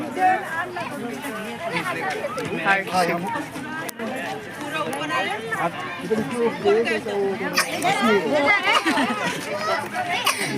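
Dense crowd chatter and hubbub fill a busy Sunday scene at Rambag, many overlapping voices close and far, steady and loud throughout with no pauses.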